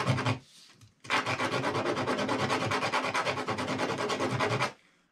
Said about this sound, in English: The sandpaper, if you pin it down there on the mat and work on each corner,